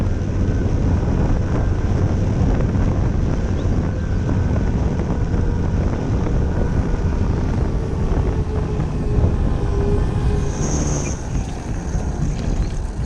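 A steady engine drone with wind noise hums continuously, a high whine rising briefly near the end as a radio-controlled J3 Cub model plane passes close, coming in to land.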